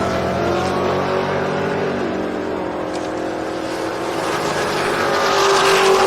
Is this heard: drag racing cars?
yes